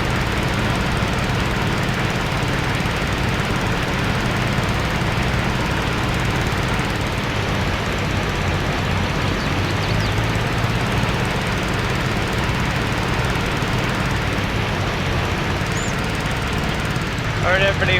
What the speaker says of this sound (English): we are going to start mowing this grass